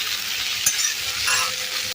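Steady, close sizzling of idli, potato and pointed gourd frying in a pan, with a brief clatter partway through and continuous crackle throughout; no one speaks.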